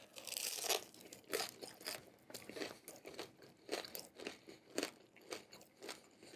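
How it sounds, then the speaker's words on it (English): Crunchy pizza crust bitten and chewed up close, a rapid irregular series of dry crackling crunches with short pauses between bites, no talking. "But let's try the crust here."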